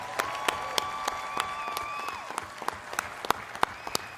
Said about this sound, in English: Let's hear some applause, College of Engineering.